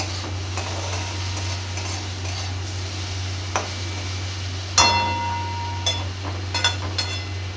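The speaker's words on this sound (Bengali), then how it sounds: "এবার ভালো করে আমি নাড়াচাড়া করে আবারও ঢাকা দিয়ে রেখে দেব।" A utensil stirs spiced food with turmeric in a pan, giving soft scraping and occasional sharp clinks against the pan, over a steady low hum, with no talking.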